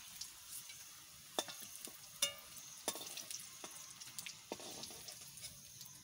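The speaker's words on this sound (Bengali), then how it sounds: "তা আলুটা একটু ভাজা করে নিই" Potato pieces with their peels left on fry in a pan for an egg biryani, a steady low sizzle broken by irregular crackles and scraping stirs, close and fairly quiet, with no talking.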